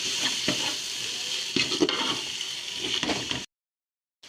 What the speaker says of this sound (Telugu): అన్నీ వేసేసుకోండి కట్ చేసి కాసేపు ఫ్రై చేసుకోవాలి